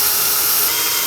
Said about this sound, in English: and I'll drill a couple holes.